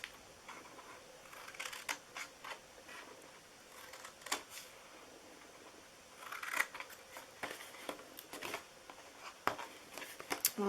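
Scissors cut paper for a Santa suit treat box, a few quiet snips spaced out over faint background noise, close but soft.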